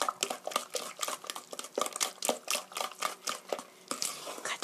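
Pancake batter with beaten eggs being mixed in a bowl for apple pancakes, a rapid, rhythmic series of close wet whisking strokes that runs steadily throughout with no talking.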